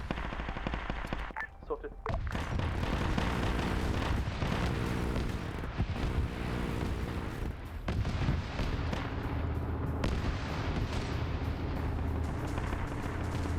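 Weapon fire in a Warhammer video game: dense, continuous gunfire and booming impacts blaze through the whole stretch, loud and close, with a brief dip early on and a voice speaking a word over it.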